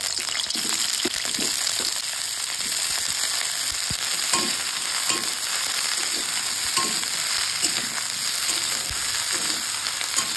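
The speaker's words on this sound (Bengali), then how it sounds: "তেলটা গরম হয়ে গেছে, ব্রোকলিগুলো দিয়ে দেবো।" Broccoli dropped into hot oil fries with a loud, continuous sizzle, dotted with crackles and occasional stirring clatter over about ten seconds, with no voices.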